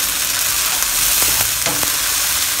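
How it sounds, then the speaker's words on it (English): Chicken and salted fish fried rice stir-frying in a hot pan, a loud, dense continuous sizzle with a few brief scrapes of the spatula near the end, close and without speech. "Mix it up well again."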